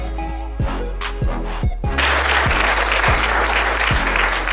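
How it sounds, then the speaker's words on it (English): An audience at an evening business event applauds, dense clapping that swells and holds loudly after a few scattered early claps. "round of applause"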